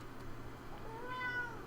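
Cat meowing in the fantasy role-playing game Pillars of Eternity, a short rising mew near the end over a low steady background hum, faint and brief.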